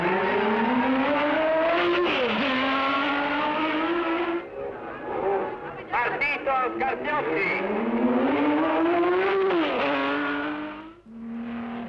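Racing cars at the 1965 Targa Florio road race roar and accelerate, engine pitch climbing through gear changes as they pass, while an excited announcer calls out over the noise.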